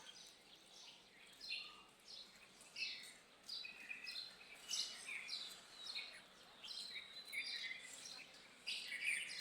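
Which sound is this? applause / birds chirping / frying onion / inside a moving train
birds chirping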